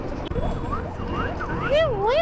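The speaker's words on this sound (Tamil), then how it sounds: "ஆம்புலன்ஸ் சத்தம் கேட்டாலே கொஞ்சம் டராக இருக்குப்பா." A wailing siren sweeps up and down, growing louder toward the end, over a steady background hum with traffic-like rumble.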